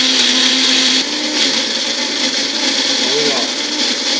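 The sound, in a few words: blender (silver bullet) pureeing raw vegetables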